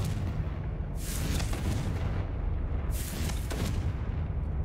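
A Confringo fire spell explodes in the Hogwarts Legacy video game: two booming, broadband blasts about two seconds apart, rising over a steady low rumble of game ambience.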